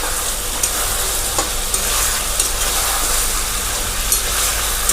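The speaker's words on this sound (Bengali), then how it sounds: "এবার এই রসুনটাকে একটু কষে নেবো এর সঙ্গে।" Garlic and a freshly ground spice paste sauté in hot oil for a chicken and potato curry, making a continuous close sizzle with a few brief clicks as the spoon scrapes the pan, and no one speaking.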